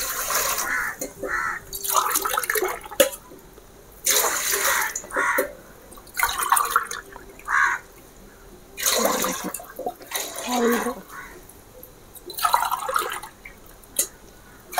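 Water pours in intermittent splashing bursts into a cooking pot holding two glasses of soaked rice, measured out for ragi sangati; the pours are close and fairly loud, separated by short pauses.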